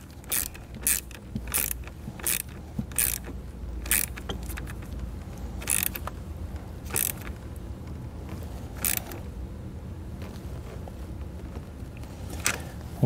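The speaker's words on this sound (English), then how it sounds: "We'll just tighten the nut back down." A nut is tightened on a 12 volt outlet kit being fitted to a 2019 Chevrolet Equinox, heard as a series of sharp, separate metallic clicks spaced irregularly over a low steady background, with no talking.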